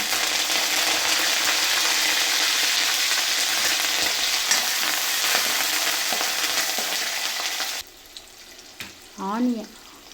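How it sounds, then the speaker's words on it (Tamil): Mustard seeds, lentils, green chillies and curry leaves fry in hot oil with a loud, steady sizzle and crackle that cuts off abruptly near the end, leaving a short quiet stretch and a brief voice. "கடுகு நல்லா பொரிஞ்சதுக்கப்புறமா கடலைப்பருப்பு உளுத்தம்பருப்பை ஆட் பண்ணிக்கோங்க."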